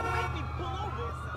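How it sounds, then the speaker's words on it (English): Wailing sirens rise and fall in the distance over a steady low engine rumble. "Yeah, I hear sirens."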